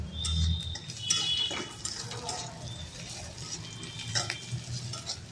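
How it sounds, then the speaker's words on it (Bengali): Ginger and garlic frying in a wok give a faint, uneven sizzle with scraping stirs and occasional clinks, and faint bird chirps sound in the background. "তার জন্য আমি কড়াইয়ে আদা রসুন দিয়ে দিয়েছি।"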